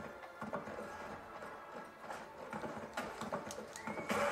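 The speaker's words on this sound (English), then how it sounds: "Mount the horse." A horse in the Lord of the Rings Conquest 2 video game gives a faint whinny while hooves clip-clop in the background, sounding quiet and a little distant amid game noise.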